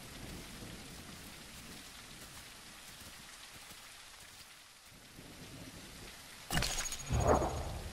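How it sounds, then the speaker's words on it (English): Rain and thunder in the video game The Isle: Evrima, a steady soft patter of rain followed near the end by a sharp, loud thunderclap that rolls on briefly. "It's been raining the whole time,"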